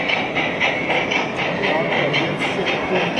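A Märklin gauge 1 model locomotive on a shuttle track pulls away with steady rail clatter and a faint rhythmic click under a continuous hum, with a voice talking over it throughout.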